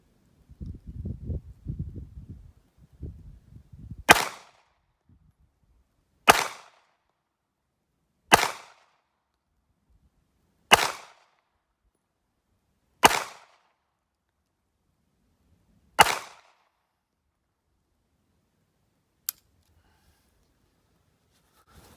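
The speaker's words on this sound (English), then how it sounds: "15 feet headshots. Be 6 shots." Six sharp gunshots from a handgun fired at a target 15 feet away on an outdoor shooting range, evenly spaced a couple of seconds apart and loud and close, followed by one faint sharp click; brief talk comes before the first shot.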